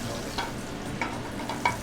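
Breaded fish fries in an aluminum pan with a steady close sizzle, broken by a few brief stirring or scraping clinks, and no talking.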